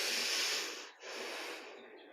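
Slow, deep breathing during a morning yoga practice: a long, airy inhale that dips briefly and then continues as a steady, close breath.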